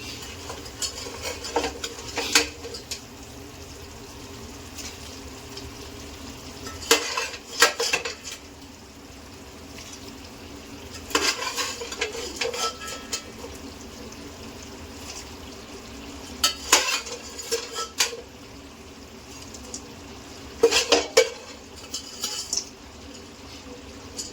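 Chicken pieces being stirred with masala in a pot for natu kodi pachadi, giving repeated bursts of spoon scraping and clatter against the pot, separated by quieter stretches, close and moderately loud with no talking.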